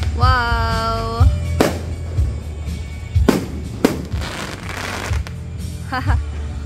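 New Year fireworks at a family celebration, with several loud booms and crackling bursts spaced a few seconds apart, plus a rising whistle near the start and another shortly before the end.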